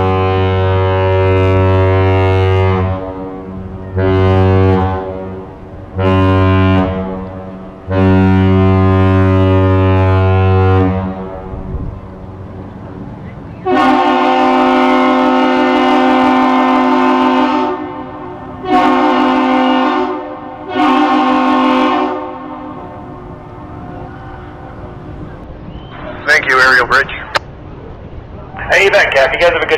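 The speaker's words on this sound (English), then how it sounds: "What you just heard there is the captain's salute." The lake freighter Joseph L. Block sounds its deep ship horn at the Duluth lift bridge: a run of loud, sustained tones, then the captain's salute of one long blast followed by two short blasts, close and strong.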